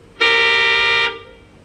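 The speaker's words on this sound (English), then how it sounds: "It's a very sensitive horn. It honks with just a touch," A very sensitive car horn gives one steady honk of about a second, loud and close, then cuts off into quiet room tone.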